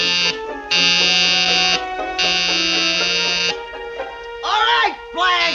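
A door buzzer from Whatever Happened to Baby Jane rings in long insistent electronic blasts, three held presses in a row, followed by voices talking.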